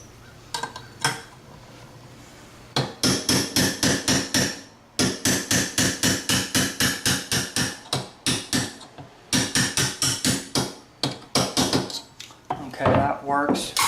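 Rapid metallic hammer taps on parts of an SKS rifle ring out in long steady runs, loud and close, with a few short pauses between bursts.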